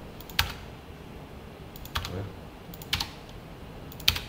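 A computer keyboard being typed on, four separate close clicks spaced about a second apart, each a short sharp keystroke like Enter being pressed, with no talking.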